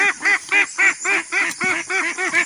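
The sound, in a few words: ducks being moved on a farm, quacking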